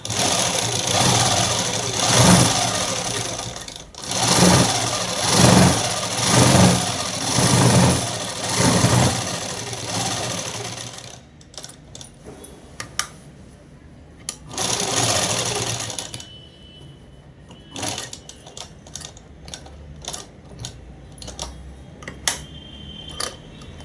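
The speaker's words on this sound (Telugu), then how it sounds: "ఇప్పుడు డబల్ కుట్టు వేసుకోవాలి" A sewing machine runs a shirt's double seam in long, loud bursts of steady stitching, pausing between runs and giving way to quieter handling noises and a final short burst.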